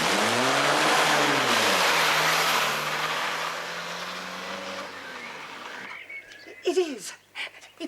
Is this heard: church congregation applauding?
no